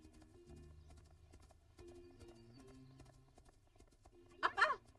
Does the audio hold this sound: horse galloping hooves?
yes